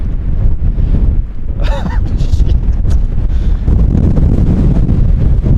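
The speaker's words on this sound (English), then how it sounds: "But it just got so windy." Strong wind roars and buffets the microphone continuously, with loud low rumbling gusts and a brief higher-pitched sound partway through.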